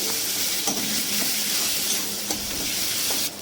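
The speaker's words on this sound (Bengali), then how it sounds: "আবার কষতে হবে জল দিয়ে একটু করে করে জল দিয়ে কষলে মশলা ভালো টেস্ট হয়" Spice masala being stir-fried with a splash of water in a pan for a potato and pointed gourd curry, a constant loud hissing sizzle broken by periodic scraping strokes of the spatula, close with no talk.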